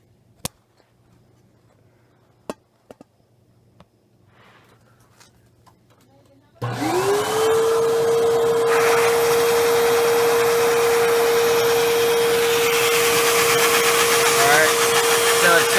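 Quiet at first with a few sharp clicks, then a small engine lubricated with assembly lube starts abruptly and runs at a high, steady whine, loud and close.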